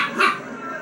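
A single short, sharp dog bark, close and loud, followed by a brief fading tail.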